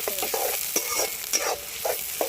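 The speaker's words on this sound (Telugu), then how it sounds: "ఉల్లిపాయలు బాగా దోరగా వేగిన తర్వాత పచ్చిమిర్చి కూడా వేసేసుకుందాము" Onions frying in oil in a pan for a village-style snail curry, a steady close sizzle with repeated scraping stirs at a regular pace.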